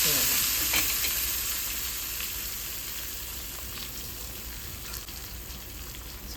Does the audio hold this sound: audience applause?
no